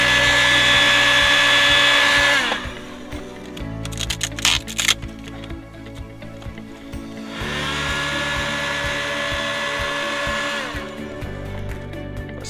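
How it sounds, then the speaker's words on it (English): A heat gun warming carbon vinyl wrap on a BMW 1 Series: a loud, steady blowing whir in two long bursts, separated by quieter handling and rustling noises. "put the straight edge to the top, to about there, and just basically heat it down"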